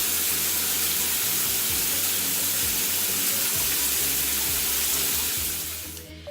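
Water rinsing shampoo out of hair, a steady, close, dense hiss of running water that lasts throughout and fades at the very end, with no talking.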